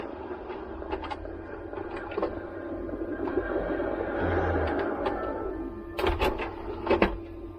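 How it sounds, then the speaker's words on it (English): An original Xbox V1.6 console powering on and ejecting its disc, with a low fan hum, a rising whir of the spinning drive, and several sharp mechanical clicks and clunks of the tray near the end, close by. "so I'm going to turn it on and eject the disc"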